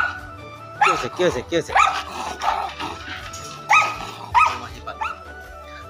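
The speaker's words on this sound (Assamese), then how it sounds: "এইটো ডগিটো দেখিছেনে কিমান উৎপাত ইয়াৰ" A restless house dog barks and yips in several sharp bursts nearby, while a person talks over and between the barks.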